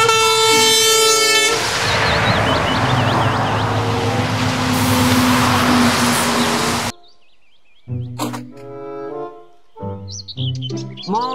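A toy container truck's horn blares loud and sustained after a short tonal intro, with chirpy electronic warbles over it, ending abruptly before a voice speaks nearby.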